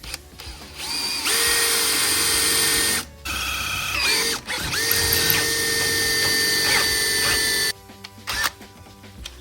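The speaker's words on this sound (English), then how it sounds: "Our tiniest drill." A small power drill runs in several bursts during work on golf cart steering stabilizers, its high whine steady through each run with short pauses and a ratcheting click between, close and loud, with no talk.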